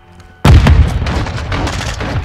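In Call of Duty Modern Warfare 2 Team Deathmatch, a cruise missile detonates suddenly after a quiet moment, a loud close booming blast with a deep low rumble that rolls on and slowly fades.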